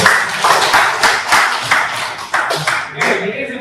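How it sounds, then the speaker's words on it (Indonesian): A classroom group claps for the class, steady rhythmic hand claps in close, bright bursts continuing throughout, fairly loud and near. "Tepuk tangan buat kalian."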